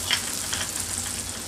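Eggplant pieces sizzle in a pan on a medium flame, a close, continuous crackling fry with a slightly brighter burst near the start, and nobody speaking.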